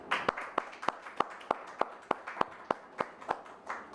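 Audience clapping at the closing ceremony of a sign-language training course: a steady run of sharp, fairly close claps in an even, slow rhythm with no voices.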